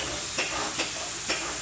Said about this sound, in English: Slide the bottles over to here to our filler.